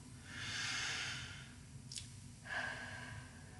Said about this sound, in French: Alors, prenons une profonde respiration.